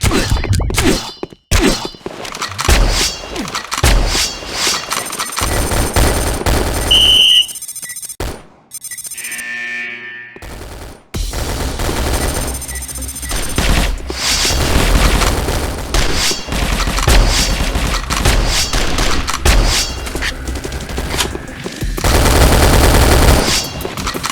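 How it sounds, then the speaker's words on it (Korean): Gunfire and explosive booms from the shooter game Sudden Attack, in a grenade-heavy team match: loud rapid bursts of shots and impacts, with short quiet gaps and dense stretches of firing near the end. "자, 수류탄 갑니다."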